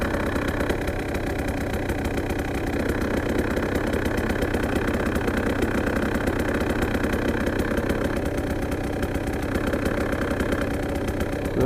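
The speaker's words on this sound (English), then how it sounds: "this clutch is loud. Listen to the difference here when I pull the clutch in." A motorcycle engine idles with a steady, close mechanical chatter while its clutch is pulled in, giving a loud, rattling knock that runs evenly without pause.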